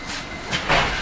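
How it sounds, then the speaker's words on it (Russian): Riga electric commuter train passing nearby, a loud rushing hiss and rumble of rolling wagons swelling over one second with no talk. "Вот тебе электричка."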